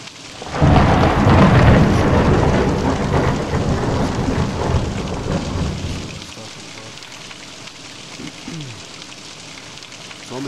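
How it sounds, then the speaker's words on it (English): Thunder and rain sound effects in the horror video game The Nun Massacre: a loud rolling thunder rumble swells up and fades over several seconds, leaving steady heavy rainfall hissing alone. "I like the effect that they did to add the thundering and then the lightning. Or not lightning, but the thundering and then the rain."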